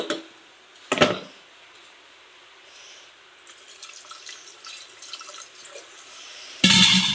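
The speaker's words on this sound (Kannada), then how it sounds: "ಇದಕ್ಕೆ ಸ್ವಲ್ಪ ಇನ್ನೂ ನೀರು ಆ್ಯಡ್ ಮಾಡ್ತೇನೆ" Water is added to a cooking dish on the stove: a faint, continuous trickle and splash, framed by a few sharp clatters of utensils near the start and end, heard close with no voices.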